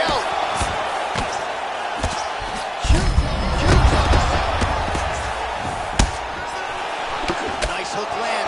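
During a combat sports fight, a crowd roars and murmurs in waves while sharp slapping impacts of punches and kicks land at irregular intervals, with a commentator talking over it.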